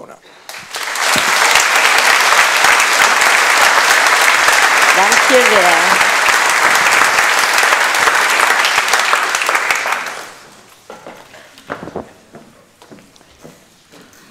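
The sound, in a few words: audience applause after a lecture introduction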